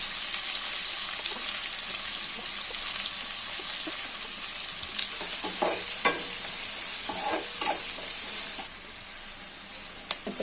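Onions hit hot oil already seasoned with fennel seeds, cinnamon and cloves for an egg curry, giving a bright, steady sizzle with occasional stirring scrapes and clinks; the frying hiss drops suddenly near the end.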